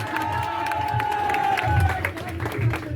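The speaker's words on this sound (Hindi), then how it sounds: "इनके लिए भी जोरदार तालियों से इनका स्वागत करें" Crowd noise with scattered clapping and cheering fills the room at a New Year event, a steady tone running over it.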